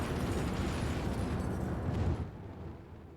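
A nuclear strike in Hearts of Iron IV lands as a low, rumbling roar that holds steady for about two seconds, then fades out as a softer tail.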